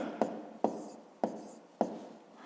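Pen strokes from writing out a fifth-grade maths exercise: four short, scratchy bursts at a steady rhythm, close and fairly quiet, with no talking.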